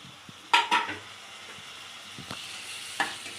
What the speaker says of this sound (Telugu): కొత్తిమీర వేసుకొని మంచిగా కలుపుకున్నామండి